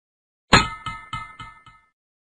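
A ruler being struck, giving five quick ringing, metallic strikes that each fade fast and grow softer in turn, close and clear with no talk.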